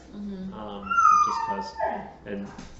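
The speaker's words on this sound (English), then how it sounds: "you can hear our dogs in the background" Dogs whimper and yip in a household, high whining cries rising and falling in several bursts behind a person talking nearby.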